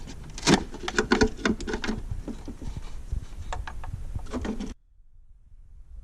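Headlight bulbs are twisted out of the sockets of a Chevrolet Silverado headlight assembly, making a dense run of close plastic clicks, ratcheting and rattles that stop abruptly near the end.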